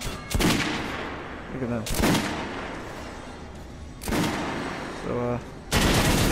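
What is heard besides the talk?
gunfire in the Metro Last Light Redux video game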